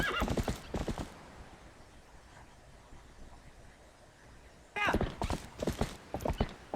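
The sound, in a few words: horse hooves and neighing while riding, Zelda Twilight Princess video game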